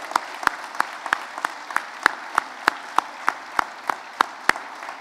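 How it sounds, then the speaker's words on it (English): Audience applause at a Teacher of the Year award announcement at a school: sharp, evenly spaced claps in a steady rhythm, close and distinct, keeping a regular beat for the whole stretch. "I want to give a big round of applause to Ms. Sparrow, the team here at the school,"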